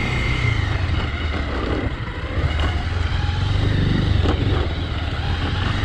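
A Pulsar 220 or 180 motorcycle riding over a rough, stony off-road track, its engine a steady, loud, close drone with slight surges in throttle and no voices.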